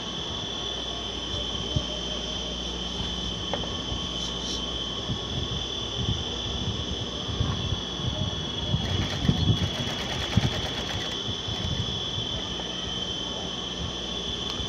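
A domestic sewing machine runs steadily, stitching around the edge of a patch pocket about 1/16 inch from the border, a continuous whirring drone with a few brief pauses and quieter handling noises.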